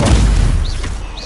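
A Stupefy spell blast in the video game Hogwarts Legacy: a loud, close booming burst with a heavy low rumble that fades over about a second.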